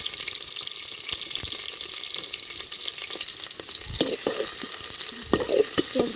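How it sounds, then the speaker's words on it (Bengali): Chopped onion and green chilies fry in oil for cooking greens, giving a steady crackling sizzle with stirring scrapes and a few sharper clatters of the spoon toward the end. "এখন শাক রান্না করার জন্য তেল দিচ্ছি, সাথে পেঁয়াজ কুচি,"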